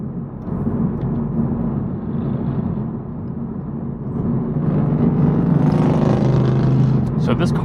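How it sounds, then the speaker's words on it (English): Loud motorcycles pass in Los Angeles traffic beside a car, a rising rumbling engine roar that builds toward the end over steady road noise. "Man, those motorcycles are loud."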